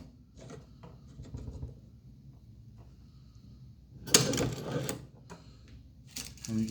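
A Chinese leather shoe-patcher sewing machine stitches a patch onto a motorcycle vest, giving short bursts of rapid mechanical clatter with pauses between them, close and moderately loud.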